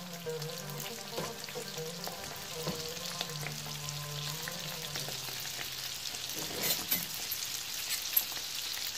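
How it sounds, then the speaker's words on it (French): Tunisian fricassé dough pieces frying in a deep oil bath, a steady bubbling sizzle with crackling bursts that swell near the end, close and alone. "Là on commence à les frire dans un bain d'huile."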